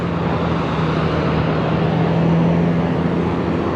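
A small airplane's piston engine drones loud and steady at close range, a constant low hum beneath a broad roar with no pauses.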